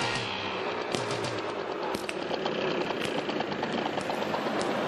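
A two-wheeler's engine idles with a steady rattling putter as it pulls over to the roadside, continuous and fairly close, with a busy mechanical chatter throughout.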